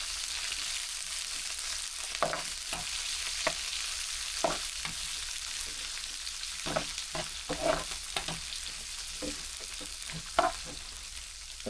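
Onion, garlic and green chillies fry together in a pan for an egg masala, a soft steady sizzle broken by repeated clinks and scrapes of a spoon stirring, close by and with no voices.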